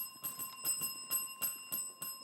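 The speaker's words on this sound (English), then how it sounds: "that bell signals the end of today's match" A bell rings to mark the end of a primary school quiz match, about eight quick bright strikes in a steady rapid rhythm, clear and ringing alone without talk.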